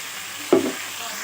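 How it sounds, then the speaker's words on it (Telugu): Tomatoes dropped into a pan of frying mutton with ginger-garlic paste and turmeric, one short sizzling burst over a steady low frying hiss. "ఇప్పుడు దీంట్లో టమాటా వేసుకుందాం."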